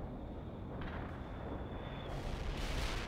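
Artillery fire in the real-time strategy game World in Conflict, a dull, faint booming rumble of distant shelling over a continuous low background, with a faint whistling tone fading out midway.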